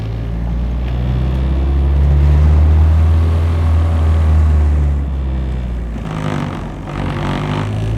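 A Nissan 240SX on polyurethane motor mounts idles roughly and loudly, a steady low drone that swells slightly midway before settling, heard close with no talking.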